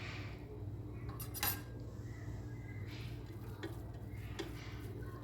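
A spoon scrapes and clinks against a pot while stirring prawn masala for chemmeen biriyani, with a few sharp metallic taps over a low steady kitchen hum, fairly quiet and close.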